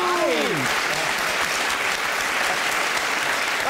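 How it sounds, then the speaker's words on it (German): Studio audience at an improv comedy show breaks into dense, sustained applause to cast a vote, a loud steady wash of clapping with a brief voice sliding in at the start. "Dann klatschen Sie bitte."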